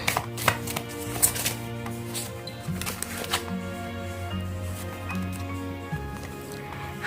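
Tarot cards are shuffled in a run of crisp, papery riffles and soft clicks, close and fairly quiet, over steady background music with no talking.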